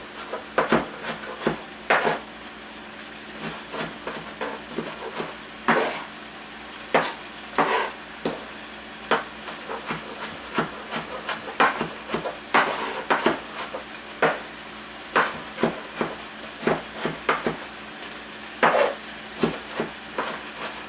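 A knife chops an onion on a board in steady, irregular sharp knocks, while hamburger meat for shepherd's pie sizzles in a pan as a soft continuous hiss underneath, close and fairly clear.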